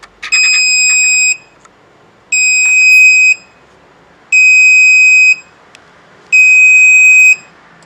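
A piezo buzzer driven by an Arduino Uno on pin 13 sounds four evenly spaced, shrill electronic beeps, each about a second long with equal gaps, loud and close with nothing else audible.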